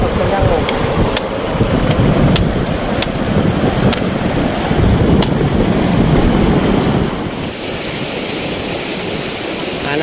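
A motor boat runs on open water, a loud continuous rush of engine and splashing with heavy wind buffeting the microphone, easing to a lower, softer wash near the end.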